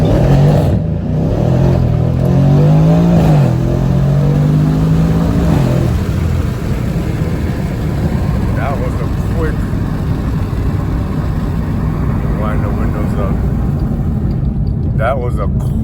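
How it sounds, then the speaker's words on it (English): A Mercedes AMG accelerates hard from a standstill with its tires spinning, the engine note climbing loudly and then settling into a roaring, rushing drone, heard close from inside the car. "From a standstill, if I hammer this car,"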